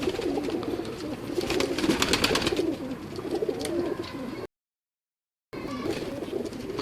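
Imam Dini pigeons on a Lahore rooftop coo in a steady, overlapping chorus, several birds close by and fairly loud, with chirps mixed in and a brief gap of silence near the end.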